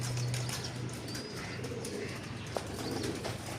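Racing pigeons with a cold give soft, low cooing murmurs that repeat at close range over a constant background hiss, with a brief flutter partway through.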